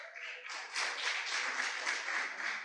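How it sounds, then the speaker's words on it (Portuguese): A church congregation at a Baptist service applauding, a soft steady wash of many hands clapping that swells slightly and keeps going throughout, with no voices over it. "Dá para você aplaudir Jesus por isso?"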